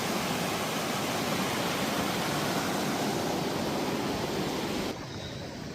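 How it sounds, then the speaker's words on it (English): The Walker River rushes steadily in Yosemite National Park, a loud, dense, even roar of flowing water close by that stays constant and then drops slightly in level just before the end. "It's a beautiful Walker River."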